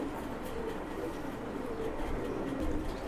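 Red-necked pigeon, a flying breed kept for sale, gives low repeated coos over a steady background hum, close and moderate in level, with no talk.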